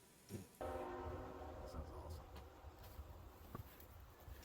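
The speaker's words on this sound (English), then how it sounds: "The train in the background." A train in the background of a song recording, a steady rumbling drone with a sustained horn-like tone that rises early and holds, then fades under ambient noise.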